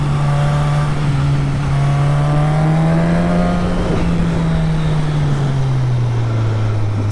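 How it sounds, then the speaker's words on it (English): A car engine revs through turns, loud and close, its pitch rising slowly, holding, then dropping near the end, with strong harmonic whine layered over the steady drone. "A little softer on the throttle, Max, a little softer on the throttle, smoother."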